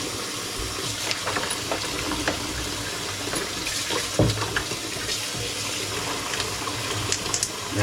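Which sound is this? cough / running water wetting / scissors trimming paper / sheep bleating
running water wetting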